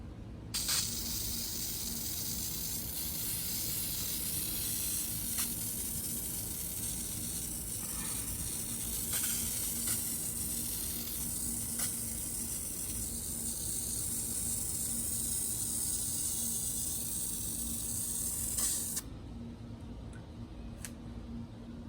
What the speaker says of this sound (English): I'm gonna spray one side, let it completely dry